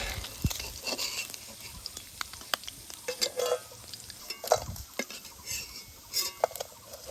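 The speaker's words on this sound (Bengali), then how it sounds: "মাছগুলা কিন্তু কড়কড় করে একদম ভাজি নিয়েই এবার ওঠাই নিব" Wetland-caught fish fry crisp in a pan, a faint soft sizzle under scattered clinks and scrapes of a spatula against the metal, close and quiet.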